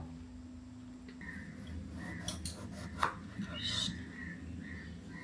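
Knife chopping washed vegetables for frying, including eggplant, potato, bitter gourd and pointed gourd, on a board in a home kitchen: a few close, sharp cuts in a quiet room, with faint background hum.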